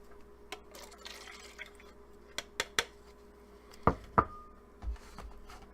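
Clean water is poured and splashed into a container for painting with India ink, amid scattered knocks and clinks from handling a cup and brushes. Two louder splashes come close together near the end.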